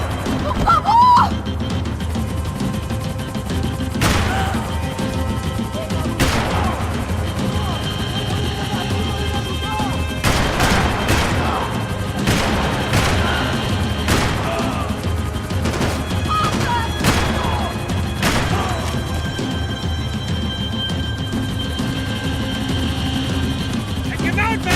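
Gunfire in the video game Max Payne 3 during a chase, scattered sharp shots cracking over a constant roar of engine or rotor noise, with shouting voices throughout.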